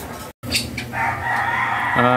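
Hens and a rooster in a backyard cage, clucking and crowing in quick bursts close by, with a steady layered murmur of fowl calls throughout.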